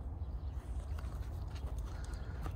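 A branded horse shifts around close by, its hooves thudding and scuffing in an irregular series of soft steps over low rumbling background noise.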